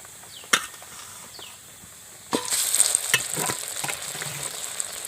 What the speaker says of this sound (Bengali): আলুটা খুব ভালো করে আমি নেড়ে নেব।